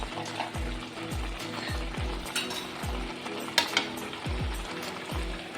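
Carrot halwa being stirred in a pan as the melted sugar thickens, with repeated rhythmic scraping strokes against the pan under a soft background sizzle.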